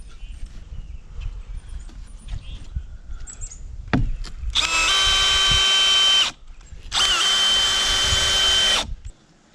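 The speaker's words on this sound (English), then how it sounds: "I'm going to drill holes in the 2x4s that Jesse just made." A power drill bores holes into 2x4 lumber for a DIY greenhouse, with two loud, steady whirring bursts of about two seconds each and a short pause between them, after some light handling noise.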